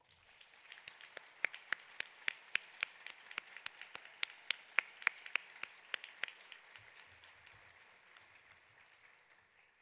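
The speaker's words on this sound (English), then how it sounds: "please stand for a round of applause" A round of applause for standing Jonas nursing scholars at a nursing education awards ceremony, fairly faint, with distinct individual claps building and then fading away.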